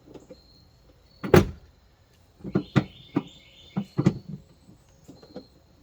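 A Dodge Durango's spare tire is lowered by turning the jack wrench counterclockwise, giving a run of close, uneven metallic clicks and clunks, with a faint squeak as the winch turns.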